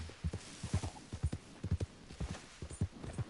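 A horse in the video game Red Dead Online walks with rhythmic, close hoof clip-clops in even paired beats, heard alone without talk.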